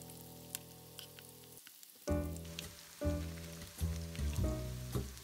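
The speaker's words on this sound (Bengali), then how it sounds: "এখন আমি মিডিয়াম টু লো হিটে কাবাবগুলোকে ভেজে নিব।" Chicken seekh kebabs fry in a pan over medium-low heat, giving a steady broadband sizzle with crackling pops. A short quiet gap comes first, then louder bursts of frying as the kebabs are turned or moved.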